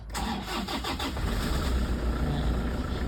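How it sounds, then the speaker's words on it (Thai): A starter cranks briefly in quick chugs before a 2008 Toyota Vigo Smart Cab 2.5-litre pickup engine catches and settles into a steady, rumbling idle nearby. "เดี๋ยวเรามาสตาร์ทฟังเสียงเครื่องค่ะ"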